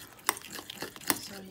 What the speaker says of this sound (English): Don't mix too much.